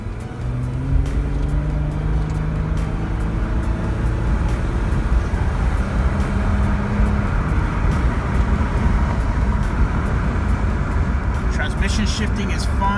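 A 2001 Honda Passport drives on the road, its engine and road noise a steady low rumble from inside the cabin, with faint ticking and clicks throughout.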